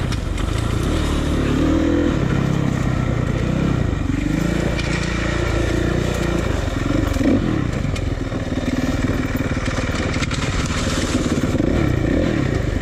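A four-stroke motocross dirt bike engine runs continuously while riding, a steady loud drone with rising and falling revs and some clatter, no talk over it.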